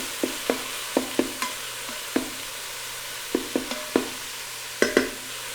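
Carne picada beef frying in a tablespoon of oil in the bottom of a pressure cooker, a steady soft sizzle broken by a dozen sharp clacks and scrapes of a utensil breaking up the meat, with no talking.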